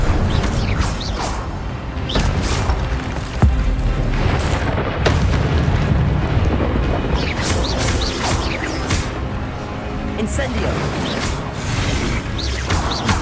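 Incendio fire spell explosions in Hogwarts Legacy, a loud, dense run of booms, bursts and whooshes that come one after another across the clip.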